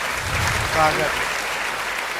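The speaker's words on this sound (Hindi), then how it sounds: "जोरदार तालियां बजा दीजिए" Steady applause from an audience at a Hindi poetry recital, a dense even patter of clapping that holds for the whole stretch, with a voice briefly cutting through the middle.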